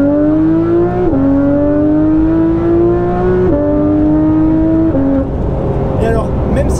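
A car engine pulls hard through a linear, non-turbo acceleration, its loud tone climbing steadily in pitch with several gear changes that briefly drop it before rising again, close and continuous throughout.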